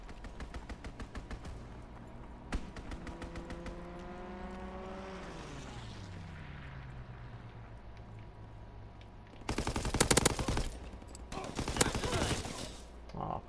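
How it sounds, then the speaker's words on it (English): A fighter plane strafes in Call of Duty WWII: rapid bursts of gunfire, then an aircraft swoops past with a falling engine pitch, followed by heavy, loud volleys of gunfire near the end. "Fighter pilot inbound, strafing the target."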